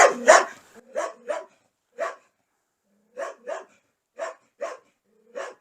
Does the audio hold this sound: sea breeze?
no